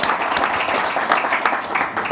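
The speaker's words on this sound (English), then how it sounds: "Let's give him a round of applause for joining the panel in place of Ryan Carter" An audience at a panel discussion event gives a steady round of applause, a dense continuous clatter of many hands at moderate loudness throughout.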